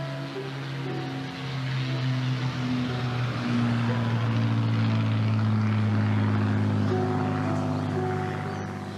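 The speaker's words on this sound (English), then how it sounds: "We're about to be overflown by a Spitfire." A Spitfire fighter aircraft passes overhead during an outdoor ANZAC Day dawn service, its propeller engine a steady, droning hum that swells as it nears and stays loud across the pass.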